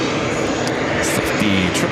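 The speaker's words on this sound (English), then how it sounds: "777-300ER flight coming from Madrid" Boeing 777-300ER jet at JFK airport, a loud, steady engine roar with a rumbling low drone, while someone speaks over it.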